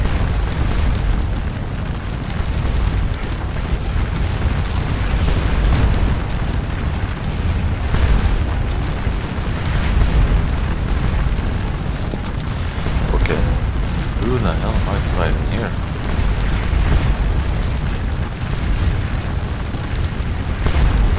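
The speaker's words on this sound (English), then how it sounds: "A little cavalry, and then you pound them with artillery." Artillery cannon fire rolls through a Napoleonic Waterloo battle in the video game Scourge of War: Waterloo, heard as a dense, continuous wall of heavy booms and rumbling blasts that overlap without pause at high volume.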